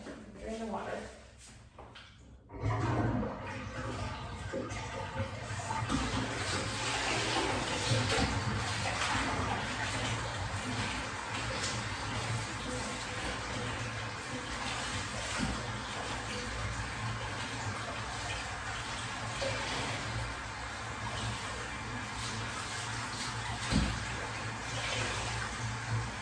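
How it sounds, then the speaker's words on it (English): Bathwater drains from a tub after laundry stripping, a continuous rushing, gurgling flow lasting over twenty seconds at moderate volume, with a brief quieter stretch and a handling bump early on. "All right, so drain the water."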